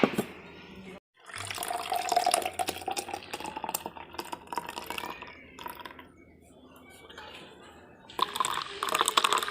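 Cold water poured into a grinder jar for Odisha-style masala lassi, over yogurt with green chili, black salt and cumin powder. A steady splashing, running-water rush fills most of the stretch, briefly cut off near the start and swelling again at the end.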